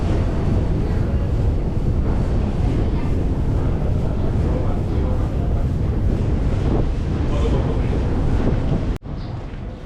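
A breeze buffets an outdoor microphone in a European city, a loud, continuous blustery rumble that holds steady for several seconds before cutting off abruptly near the end.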